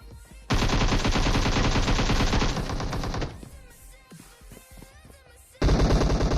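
Rapid automatic gunfire in a shooter video game fired from a crouch inside a cramped house, loud sustained bursts around three seconds long, a quieter stretch of ambient game noise, then another loud burst starting at the end.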